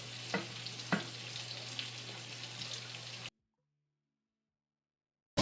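Risotto rice with chicken sizzles in a pan as vegetable stock is added, a close, steady fry with a few sharp splashes and stirs, cutting off into silence partway through.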